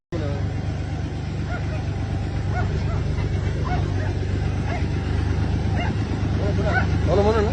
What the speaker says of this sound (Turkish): önce bir köpeğin havlama sesi duyuluyor